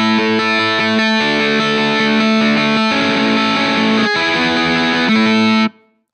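Loud, saturated chords from an electric guitar run through a driven Amplitube 4 amp setting, several changes in a row with brief gaps, then a sudden stop; no voice over it.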